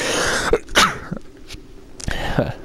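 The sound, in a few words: sneeze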